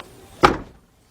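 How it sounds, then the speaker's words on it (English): Rear hatch of a 2008 Honda Odyssey swung shut, one solid thud close by with a short dull decay, alone with no talking. "All right, close down the hatch."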